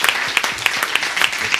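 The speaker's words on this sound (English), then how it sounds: "So one more round of applause for our mechanics." Applause at a school board meeting honoring school bus mechanics, a steady round of clapping from the room with sharp individual claps standing out, fairly close and continuous throughout.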